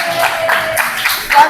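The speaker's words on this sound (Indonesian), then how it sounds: "Tepuk tangan." A sixth-grade class of children claps hands together in a quick rhythmic pattern of crisp bursts, with voices mixed in around the claps.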